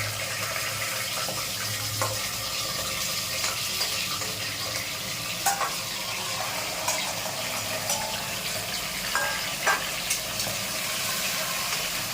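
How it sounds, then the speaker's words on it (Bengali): Salt-and-turmeric-coated mutton frying in hot oil for a curry, a loud, steady, close sizzle with faint stirring clicks scattered through, no talk. "বন্ধু তেলটা গরম হয়ে গেছে আমার এবার আমি এতে মাংসগুলো দিয়ে দেব"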